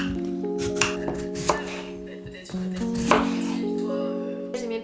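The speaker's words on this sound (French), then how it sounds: "on fait l'étape la plus chiante avec à éplucher la patate douce." Sweet potatoes being peeled and cut in a home kitchen, with a series of close knife chops and scraping strokes on a board and a faint voice in the background.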